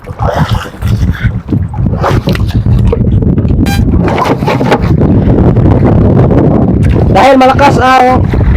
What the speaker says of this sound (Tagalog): Malakas man ang hangin.